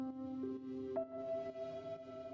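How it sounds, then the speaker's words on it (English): Sustained airy synth tones with a long reverb tail, one note changing to a higher held note partway through, soft and washy. "I loaded up another instrument with a lot of reverb on it. It sounds like this."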